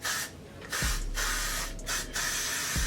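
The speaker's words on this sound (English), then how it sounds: "I'm just gonna spray it on my whole front of my head with the Got To Be spray" Got To Be hair spray misted onto the front of the head, two long hissing bursts close up with a short pause between them and a softer trailing spritz.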